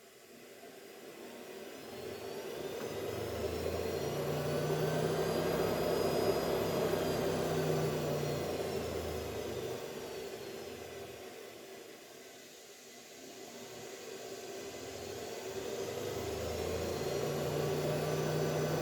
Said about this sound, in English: I'm just going to vary the throttle and control the speed of the motor.